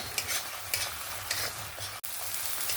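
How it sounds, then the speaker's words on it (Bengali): Ground spice paste sautés in oil in a pan for a prawn malai curry with ash gourd, giving a steady close sizzle broken by rhythmic scraping stirs, with no voices. "এবার আমি ভালো করে একটু 2-3 মিনিট ধরে সুন্দরভাবে কষিয়ে নেব, যতক্ষণ না এই কাঁচা মশলার গন্ধটা চলে যায়"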